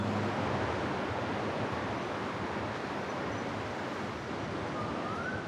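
Broadband roar of surf breaking on a beach on the New South Wales Mid North Coast near rainforest, a steady, fairly loud wash of waves with no talking.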